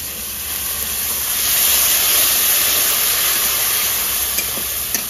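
Water poured into a pan of frying spices and chopped tomato, giving a loud, steady close hiss of sizzling and steam that swells in the middle and continues to the end.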